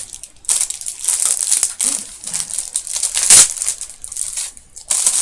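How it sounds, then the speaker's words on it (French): Adhesive tape pulled off a flap rips and crinkles loudly and close up, in irregular bursts of tearing and crackling with brief pauses, plus faint talk. "Quand vous essayez d'enlever le rabat, ben, ça enlève tout le scotch."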